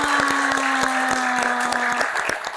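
An audience at an Indonesian elementary school event in Tasikmalaya claps steadily for about two and a half seconds, with a sustained tone running under the dense, even clapping until it thins near the end.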